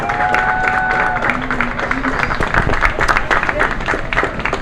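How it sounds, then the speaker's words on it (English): Applause from a crowd at a college softball field dedication ceremony, steady clapping throughout, with a voice over the public address system in the first couple of seconds. "Let's give our softball program and the alumni another round of applause."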